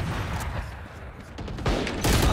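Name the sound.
gunfire in a mobile shooting video game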